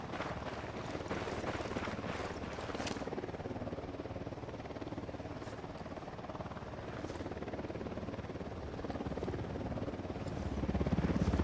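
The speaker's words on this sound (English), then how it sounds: "Helicopter inbound." A helicopter in the video game Ghost Recon Wildlands drones steadily with a dense rotor and engine rumble, swelling slightly louder toward the end, with no speech over it.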